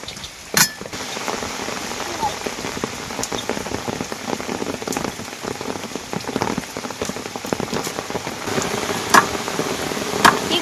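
Heavy rain falls steadily on surfaces in a Sundarban village, a dense, continuous hiss with scattered louder drips and taps from nearby, holding at a constant intensity throughout.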